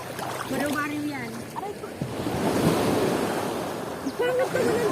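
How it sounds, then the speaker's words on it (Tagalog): Sea waves wash onto the shore in a continuous broadband surge, with wind buffeting the microphone and people chatting nearby throughout. "Pangat ang dagat ngayon"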